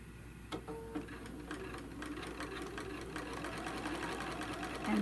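A sewing machine stitching a quilted tote bag panel, running in a steady rapid mechanical chatter for several seconds after a couple of brief starts, fairly close and alone.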